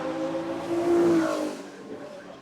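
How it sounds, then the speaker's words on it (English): Porsche 917 race car engine at a Porsche anniversary hillclimb event, loud and close, rising to a peak around the middle then easing off as it passes, with a strong sustained tone over a broad roar. "that fabulous 917 engine note"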